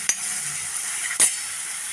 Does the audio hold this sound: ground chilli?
yes